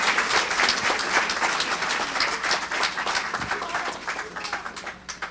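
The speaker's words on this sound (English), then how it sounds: "How about a big round of applause for everybody?" An audience at a local chamber of commerce meet-the-candidates event applauds in a sustained, dense burst that slowly fades, with a voice faintly underneath.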